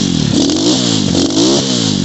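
Xmoto 250cc dirt bike engine revving up loud and close, its pitch climbing and dipping in two throttle surges over a rough, steady idle.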